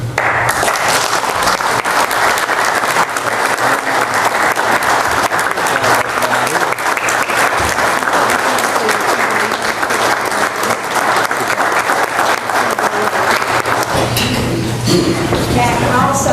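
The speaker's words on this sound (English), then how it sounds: "I think we need to give Slim a round of applause" A county commission meeting audience gives a loud, sustained round of applause, dense clapping from many people filling the room for about fourteen seconds before tapering off into murmurs.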